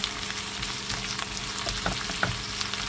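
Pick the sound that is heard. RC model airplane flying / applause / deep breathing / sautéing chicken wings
sautéing chicken wings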